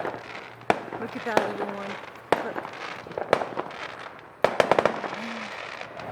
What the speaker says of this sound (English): Here we go, the fireworks display.